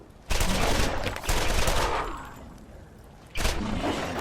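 Repeater pistol fire in the video game Borderlands, two loud bursts of rapid shots with a reverberant tail fading between them, close and dominant with no talking.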